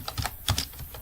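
Quick close clicks of typing on a computer keyboard, a handful of keystrokes in a brief uneven burst with no talking.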